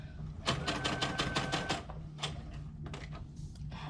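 Short bursts of rapid sewing-machine stitching on a small Baby Yoda toy toe, a quick rhythmic clatter for about a second and a half, then pauses and a few softer separate stitch runs, close and fairly loud.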